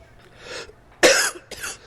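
A man coughs several times in short bursts, close and fairly loud, with brief pauses between the coughs.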